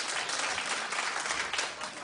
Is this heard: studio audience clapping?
yes